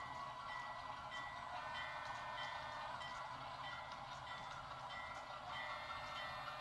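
At night a yard job train rolls into Harris siding with a steady, faint, distant rumble and hiss, unbroken throughout and with no clear separate events.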